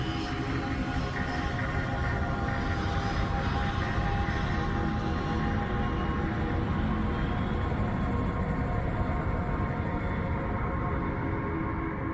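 Steady, loud broadband roar of an Air India airliner's engines inside the cabin of Flight 182, a constant dense drone with no breaks and no talk.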